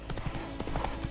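Roach, the player's horse in The Witcher 3, trots with quick, soft hoofbeats in a brisk clip-clop over a short moment, fairly quiet with no talk.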